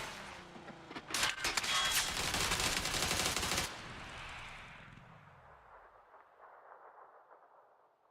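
Gunfire from an AUG rifle in the PUBG video game comes as a dense, loud burst of rapid shots lasting a few seconds, then fades into a long rumbling echo and a lingering ring.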